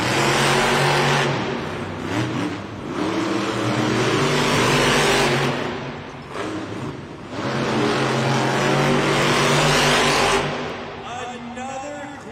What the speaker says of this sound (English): Monster Mud Rottweiler gets set at the line. Gravedigger set at the line. Let's go racing!